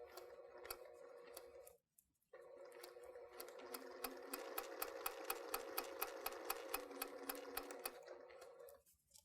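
A sewing machine stitches quilt embroidery in a rapid, regular mechanical rhythm. It pauses briefly, then resumes with distinct ticking stitch beats before stopping. It is quiet and close, with no talking.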